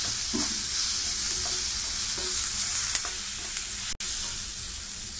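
Butter sizzles and fries steadily in a hot pan over a gas flame for a Schezwan-style dish, a dense continuous crackle with occasional stirring scrapes and no voices.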